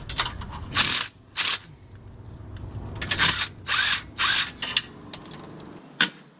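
A power tool loosens header-to-up-pipe bolts during a Killer B header install, with repeated short loud whirring bursts separated by pauses and faint mechanical clicks, no speech.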